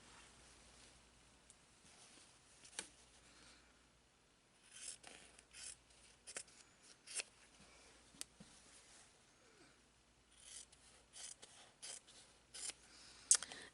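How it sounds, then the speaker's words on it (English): Scissors snip through quilt binding seams on an ironing table, trimming them to a quarter inch: quiet, scattered short cuts and fabric rustles, with no talking. "I want to go ahead and trim them. I just eyeball it. I trim it to 1/4 of an inch."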